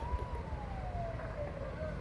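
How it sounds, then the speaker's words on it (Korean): Fire truck arriving at a fire in a village in Inje County: a wailing siren glides slowly downward at moderate distance over road noise, with faint background voices. "소방차가 지금 도착을 했습니다"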